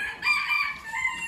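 Roosters crow at an indoor poultry and small-animal exhibition, one loud, drawn-out crow lasting over a second and filling the clip, with no voices.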